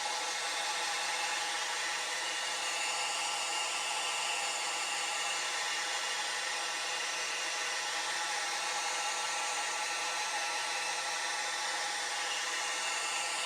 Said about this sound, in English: Apologies for this section where you listen to a hairdryer for a moment.